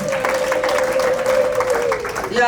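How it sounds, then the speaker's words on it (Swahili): A church congregation at a prayer meeting in Nashville, Tennessee, claps loudly together, a dense, sustained burst of applause with a voice calling out over it. "Mpigie Bwana Yesu makofi makubwa."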